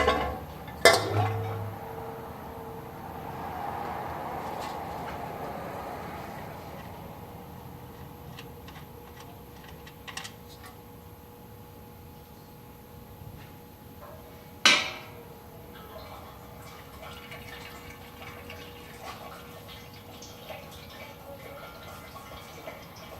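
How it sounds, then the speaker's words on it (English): An oil plug being removed with a 14mm wrench on a 2011 Nissan Juke turbo, then oil draining: sharp metallic clanks and taps, a soft pouring wash, and later another loud clank in a quiet garage. "I'm going to take off the oil plug with a 14mm."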